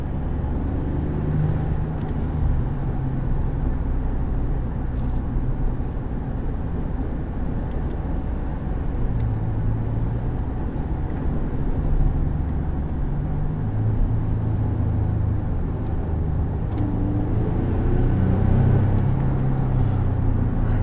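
A 2018 Ford F150 Sport pickup with an EcoBoost turbo engine drones steadily while driving, a continuous low rumble of engine and road noise that stays loud and even throughout, with no voices.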